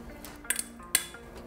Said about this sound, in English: So carefully add your meatballs back to the pan.